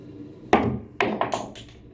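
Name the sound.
pool cue striking ball, awkward pool shot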